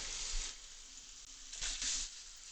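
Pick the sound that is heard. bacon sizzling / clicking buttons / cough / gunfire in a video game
bacon sizzling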